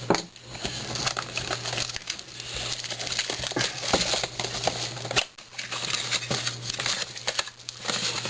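Allen & Ginter baseball card pack wrappers from 2010 retail blaster boxes crinkle and rustle steadily as they are torn open, a soft, continuous crackling close to the mic over a low background hum.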